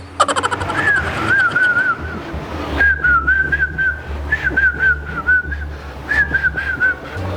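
A person whistles a wavering, warbling tune in several short phrases, close by, over a light background hum.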